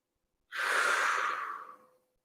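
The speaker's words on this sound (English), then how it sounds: "Long, deep breathing." A single long, deep breath, drawn in then slowly released during a seated chest-opening exercise. It swells quickly, holds steady for about a second and a half and fades out, close and breathy, with no talking.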